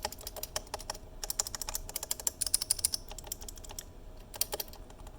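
Keys on 3D printed mechanical key switches pressed in quick, uneven bursts of crisp clicky taps, close up and fairly quiet, with a few brief pauses and no talking.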